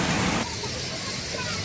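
Steady broadband roar of a waterfall at the end of a roughly hour-long hike on Oahu, Hawaii, loud and continuous, a bit stronger in the opening moment and then holding steady.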